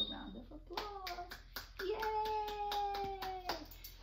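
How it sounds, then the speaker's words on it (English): Children clap together in a burst of scattered, uneven hand claps, mixed with excited young voices and high squeals. "Give your hands a round of applause."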